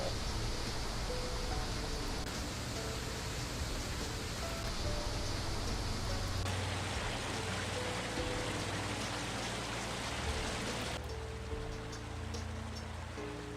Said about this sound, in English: can we go for like waterfall?